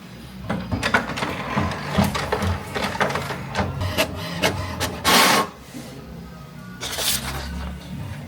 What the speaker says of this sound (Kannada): ಪ್ರಿಂಟು ಪ್ರಿಂಟ್ ಕೊಡಿ.